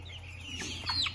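Chickens in a backyard flock cluck in short rising calls, close and fairly clear over a low steady hum.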